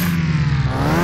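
A game car engine in Car Mechanic Simulator 2021 revs with a steady droning whine and a blow off valve, a close, loud, continuous tone that rises slightly toward the end.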